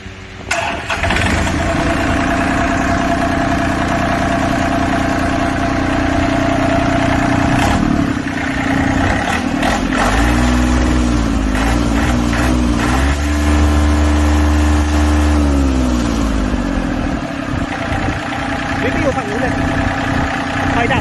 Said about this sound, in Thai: เดี๋ยวลองฟังเสียงเครื่องยนต์ดูนะครับ